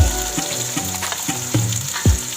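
Masala and chickpeas frying in a pan for channa pulao, a loud continuous sizzle broken by several sharp spoon knocks and scrapes against the pan.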